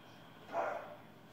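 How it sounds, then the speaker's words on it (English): A dog gives a single muffled bark partway through, faint and somewhat distant, against a quiet indoor background. "What's he barking at?"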